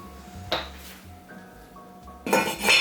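A metal lid set onto a cooking pot gives a clanking clink, followed by a few faint taps and then a louder rattle of kitchen dishes and cookware.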